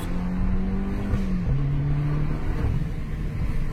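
A Smart Brabus drives and accelerates, a near engine droning with rising then shifting pitch as it changes gear, carrying a rumbling road noise beneath, no talking.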